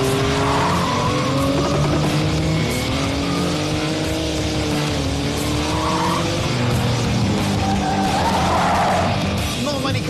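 A Porsche GT2 RS slides sideways on track with sustained, loud tyre squeal layered over a roaring, revving engine that rises and falls through gear changes, close and continuous.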